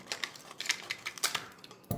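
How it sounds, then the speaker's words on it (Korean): A series of quick, crisp snips and rustles, like scissors cutting through paper, close by and fairly quiet. "제가 한번 오려볼게요."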